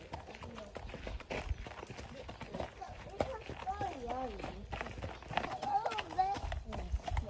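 Horse hooves of a five-year-old Koniag horse clip-clop in an uneven rhythm while people talk over them, with a voice prominent.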